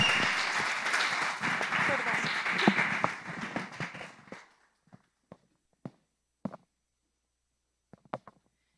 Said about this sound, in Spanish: Denle el aplauso fuerte a la pastora que viene con el resto.